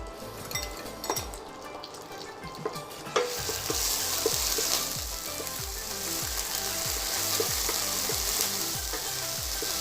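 Ginger and garlic paste frying in a hot pan for kung pao chicken, a steady loud sizzle that swells partway through and keeps crackling on its own with no talk.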